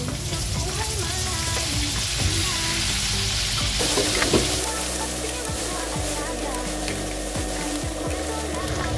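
Onions sizzling in a pan while cooking pakbet, a loud, steady frying hiss with a stir partway through that shifts the crackle, heard up close for the whole stretch.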